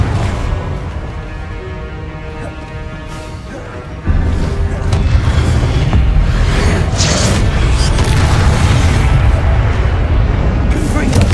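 Repeated Confringo blasting spell explosions in Hogwarts Legacy make a dense, loud barrage of booms and crackling bursts that jumps up sharply partway through, layered over game music and effects.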